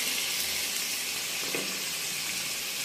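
Hilsa fish pieces, rubbed with salt and turmeric, go into hot mustard masala in a pan, giving off a steady, even sizzle that stays at one level throughout with no voices.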